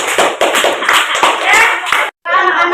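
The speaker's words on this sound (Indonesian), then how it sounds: "Beri tepuk tangan kembali." A classroom of students claps together for a group in a lesson, loud close hand claps in a quick dense burst with a voice briefly over it, stopping suddenly before a short spoken phrase.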